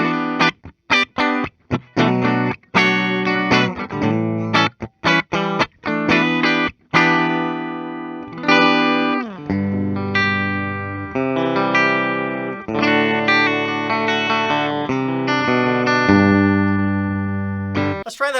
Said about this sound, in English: It sounds like a Strat again.